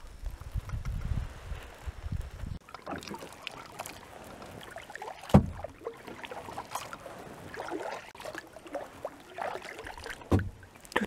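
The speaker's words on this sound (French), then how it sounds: "Le seul bruit qu'on entend, c'est la pagaie qui fend l'eau" On a calm lake, a kayak paddle dips and pulls through the water in soft, irregular strokes and splashes. Wind rumbles faintly in the first seconds, and the whole scene stays quiet and close.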